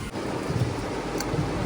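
Rain pours in a steady broadband hiss with a low rumble underneath, continuous and fairly close for a brief moment.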